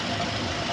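An old Toyota Camry engine runs with a dense, even mechanical drone and faint knocking texture, steady and close for a brief moment.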